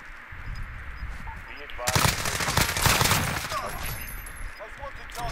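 Gunfire in Call of Duty Warzone: a burst of rapid shots erupts about two seconds in, then dense firing continues for a few seconds before tapering off into scattered shots and background game noise.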